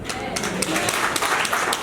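An audience at a nurses' week keynote claps in a dense, continuous patter of many hands, with a voice talking over the applause.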